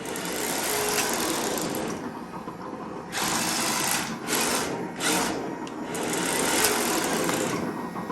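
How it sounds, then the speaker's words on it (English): Electric whine from a WPL E1 ready-to-run RC car's simulated engine sound unit, buzzing steadily, dropping away in short gaps as the throttle eases and engine braking kicks in, then rising again; close and fairly loud, no talk. "It's got a nice engine brake going on there."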